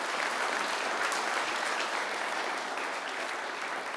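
A conference audience applauds as a speaker is welcomed on stage, a steady, dense wash of clapping with no talk over it.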